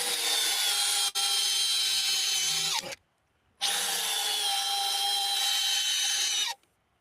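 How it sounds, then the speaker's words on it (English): A Makita 3-speed drill drives 12-inch structural screws into wood: a loud, high whining run, a brief pause, a second long run with a catch partway through, then a quiet gap before another long burst that ends abruptly. "So we just got in Makita's newest 3-speed drill"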